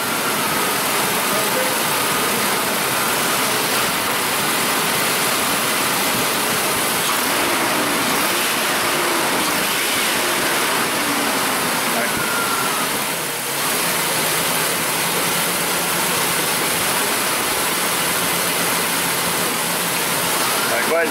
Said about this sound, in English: Give her a couple rev ups.